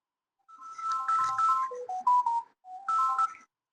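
A mobile phone ringtone plays a bright, melodic electronic tune in two phrases, close and clear in a quiet room, with no talking over it.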